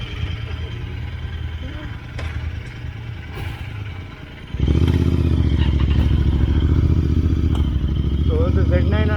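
A Kawasaki Z900 motorcycle engine on a group Sunday morning ride alongside an S1000RR, idling at first with faint clatter, then a loud steady rev that holds to the end over muffled talk nearby.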